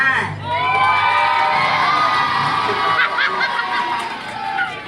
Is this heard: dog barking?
no